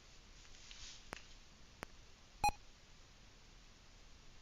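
A ZX Spectrum running a BASIC program gives one short, clear electronic beep, with a couple of faint ticks before it and quiet background hiss around it.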